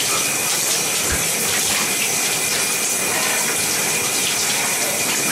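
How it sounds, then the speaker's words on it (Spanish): Cold water runs hard from a tap in a steady, loud, unbroken gush, filling the whole clip without any voices. "Agua fría para rematar"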